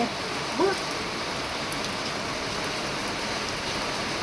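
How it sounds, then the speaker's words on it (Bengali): Continuous rain pours down in a dense, even hiss, with a faint voice heard very briefly near the start. "টকাস টকাস করে বৃষ্টি হচ্ছে"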